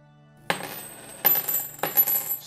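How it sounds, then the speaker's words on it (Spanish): Coins drop onto a hard surface in three separate bursts of bright jingling and clinking, close and clear in an otherwise quiet setting. "usted recibirá apenas el sonido de sus monedas"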